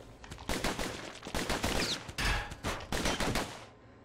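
Rapid bursts of gunfire from shooting in the action game Bastion, loud, close and repeated in dense volleys across the whole stretch, then cutting off abruptly near the end.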